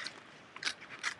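Scissors trimming heat transfer vinyl, with two quick, close snipping cuts and a faint scrape between them.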